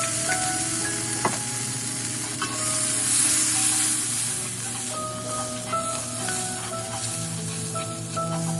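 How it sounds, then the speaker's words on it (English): Minced garlic sizzling in melted butter in a pan, a steady close frying hiss with small pops and crackles throughout, no talking. "Drop in minced garlic. Let it perfume the butter for a few seconds."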